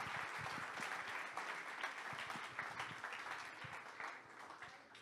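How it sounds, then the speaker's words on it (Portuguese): A church congregation at a missions congress claps together in continuous, lively applause, an even wash of many hands that softens slightly toward the end. "Quantos podem dar um aplauso àquele que vive e reina por todo sempre?"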